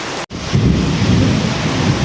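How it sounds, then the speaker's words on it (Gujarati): Heavy rain driven by strong wind pours down in a village, a loud, dense wash that follows a brief silent gap. "બહુ પવન સાથે વરસાદ આવ્યો છે અત્યારે હાલ."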